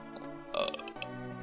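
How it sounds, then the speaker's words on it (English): A short, close burp from a man, one croaky belch lasting about half a second, loud against a faint steady background hum. "Nice little random burp."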